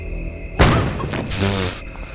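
A sudden loud explosive boom from a skull bomb in the video game Zeno Clash erupts with a broadband burst, followed by a second rumbling blast, over a steady electronic background hum.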